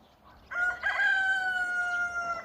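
A single rooster crowing once, a clear drawn-out call close by against a quiet background.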